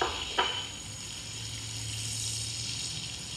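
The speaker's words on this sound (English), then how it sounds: "our butter is nice and bubbly. We're going to add our red onion to that" Finely diced red onion hits bubbling butter in a pan, giving a brief splash of sound followed by a soft, steady sizzle that carries on quietly.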